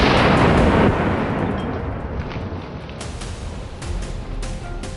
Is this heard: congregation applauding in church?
no